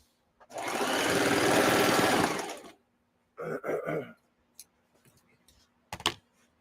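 A sewing machine runs in one steady burst for about two seconds, then stops; a shorter whirring burst follows, then scattered light clicks.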